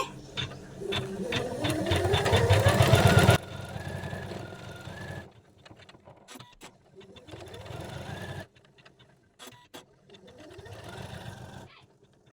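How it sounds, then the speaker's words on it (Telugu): An Usha 550e embroidery sewing machine stitches a neck design in gold thread. A rapid mechanical whir rises in pitch, then continues in shorter bursts with pauses between them. "ఇలా గోల్డ్ కలర్ పెట్టుకున్న తర్వాత మిషన్ అయితే స్టార్ట్ చేస్తున్నానండి"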